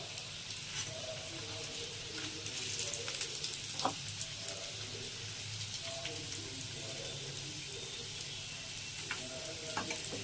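Nargisi kofta frying in a pan of hot oil, a steady soft sizzle throughout with occasional clinks and stirring scrapes, fairly quiet and close.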